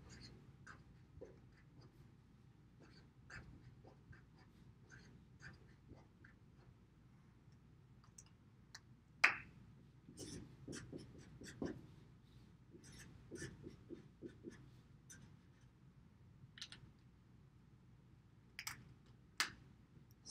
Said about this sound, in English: Now I'm going to draw a little picture right here to help me remember.